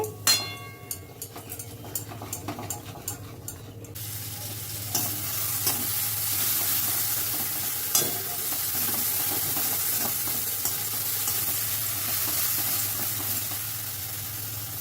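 Spice paste with chilli powder is stirred in a pan. Scraping and tapping come first, then water goes in and a loud, continuous hiss-sizzle follows, with irregular stirring knocks under it.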